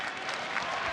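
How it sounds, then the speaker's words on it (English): A stadium crowd at a Muay Thai fight claps and cheers in a dense, steady wash of applause heard from a distance, with a faint voice over it. "crowd loving it"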